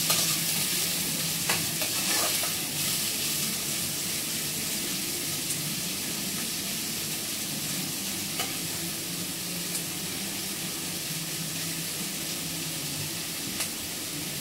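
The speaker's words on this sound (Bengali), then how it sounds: "শুকনো লঙ্কাগুলো হালকা লাল হয়ে গেলেই পেঁয়াজটা ফ্রাই করতে দিয়ে দিলাম।" Onions frying in a wok of mustard-tinged oil with dried red chillies sizzle in a constant, close hiss, broken now and then by soft scrapes of stirring, with no voices over it.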